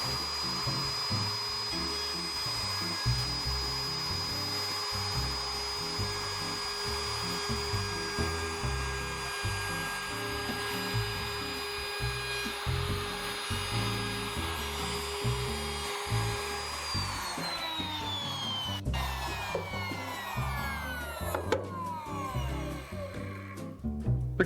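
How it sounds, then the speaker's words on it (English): A big Skil router rounds over the edge of a wooden mounting panel, its high motor whine running steadily and loud throughout, then dropping in pitch as it spins down near the end. "I'm using my big skill router here to do it. Just curve over right on the edge."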